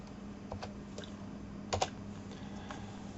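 Computer keyboard typing a folder name, faint scattered key clicks with a short quick double tap in the middle, close and quiet against a low background hum.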